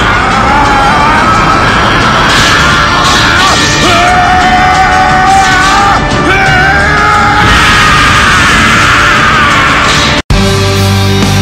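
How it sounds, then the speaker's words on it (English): Vegeta from Dragon Ball screaming as he powers up into Super Saiyan Blue, a loud, sustained shout layered over a dense roar of effects, broken by a sudden brief cut near the end. "Before Goku can react, Vegeta went and he screamed."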